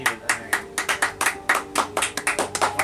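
Hands clapping in a quick, slightly uneven run of about fifteen sharp, close claps over a few seconds, with no voices over them.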